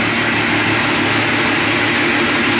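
A Yamaha YXZ side-by-side fitted with a Packard supercharger runs loud and close, its engine holding a steady, dense roar throughout with no voices over it.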